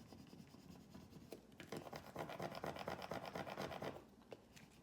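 Vinyl decal being rubbed down onto a coffee mug, a quiet, steady scraping and rubbing with rapid back-and-forth strokes that build through the middle before easing off, with no voices.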